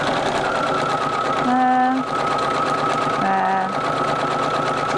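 Sewing machine stitching vein lines onto a fabric poinsettia leaf for a pot wrap, two short bursts of steady whirring stitching, close and clear, with low room noise between them.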